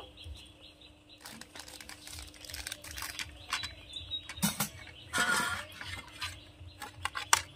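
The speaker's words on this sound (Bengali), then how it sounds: "গ্রেটারের সাহায্যে এভাবে গ্রেট করে নেব।" Potatoes are grated by hand on a grater, a series of close scraping rasps that come in uneven strokes, growing louder and more frequent toward the end, over a faint steady background hum.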